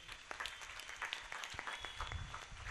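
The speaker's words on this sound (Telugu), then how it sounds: "ఈరోజు దివ్య ప్రసాదం స్వీకరించిన పిల్లలను అభినందిస్తూ వారికి చప్పట్లు కొట్టండి." A church congregation claps for children who have just received first communion, a scattered, moderate round of applause heard at a slight distance.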